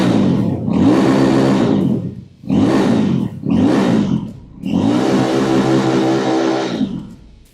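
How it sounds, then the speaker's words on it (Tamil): A 2025 Yezdi Roadster motorcycle's exhaust roars through four loud revs, three short blips and then a long sustained pull, close and alone with no talk. "மெயினா இந்த வண்டியோட எக்ஸாஸ்ட் சவுண்ட் நீங்க கேட்டு ஆகணும்."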